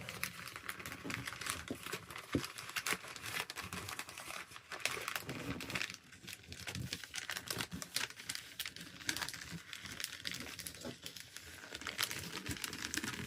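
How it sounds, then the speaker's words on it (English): Christmas wrapping paper crinkles and rustles steadily up close as presents are wrapped, a continuous papery crackle with occasional sharper crunches and a faint voice in the background. "I apologize if you can hear all the wrinkling"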